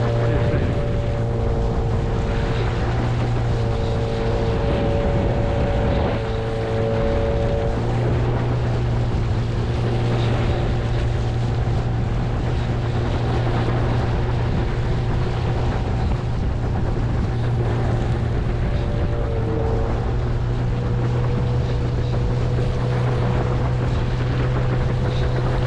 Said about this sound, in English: just enough speed to put the boat on plane